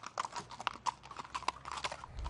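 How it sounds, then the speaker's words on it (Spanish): Horse hooves clip-clop in a quick, steady rhythm of sharp knocks as the animals are led around on a short lap, close and fairly loud, with no talking. "Carmen, vamos a enseñarle a esta gente los caballos"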